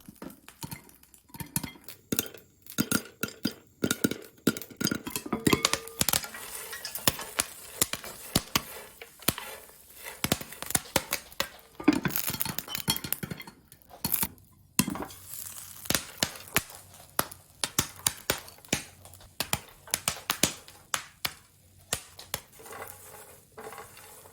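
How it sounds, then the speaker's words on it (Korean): Corn kernels burst into popcorn inside a covered pot, giving many sharp, irregular pops that come in quick clusters and then thin out over time. "옥수수 터지는 소리가 줄어들면 다 됐습니다."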